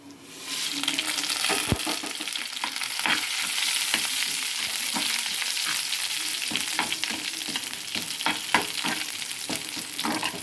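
About 50 grams of chillies fry in oil in a kadai, making a steady close hiss and crackle with occasional stirring clinks.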